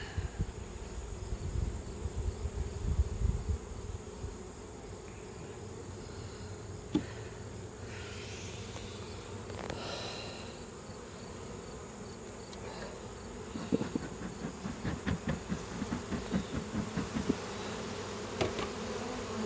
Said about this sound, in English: Heads up, bees coming in.